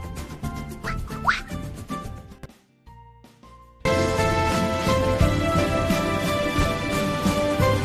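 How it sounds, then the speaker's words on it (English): A cartoon duck quacks in a children's animation, with short squeaky calls over bright music that drops out briefly and then comes back louder. "A happy yellow duck. Quack, quack."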